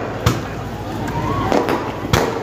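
Firecrackers go off at an outdoor public political rally, three or four sharp cracks popping over a busy crowd hum with amplified talk.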